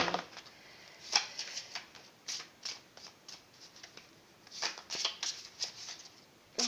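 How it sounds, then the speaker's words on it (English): Chakra cards are shuffled and pulled from a deck in quick bursts of riffling and flicking, close and crisp, with short pauses between the handfuls. "I'm just pulling their chakra cards on top of each. My lord, they just want to fly out everywhere."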